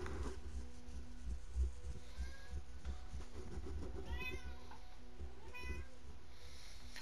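Kittens meow in a couple of short, high, drawn-out cries over a low rumbling background, with occasional voices nearby.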